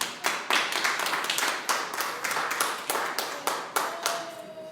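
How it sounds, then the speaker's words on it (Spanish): Applause at a church sermon, with a handful of people clapping in a loose, uneven rhythm of distinct sharp claps, fairly close and without voices. "Denle un aplauso al Señor."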